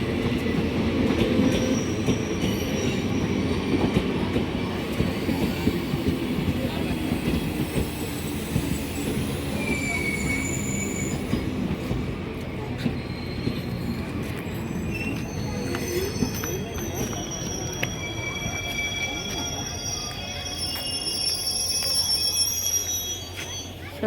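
The Yesvantpur–Chikkamagaluru Express, hauled by a WDP4 diesel locomotive, rolls into the station with rumbling wagons, rhythmic wheel clatter and high squealing wheels that fade as it slows. Faint voices are heard among the noise.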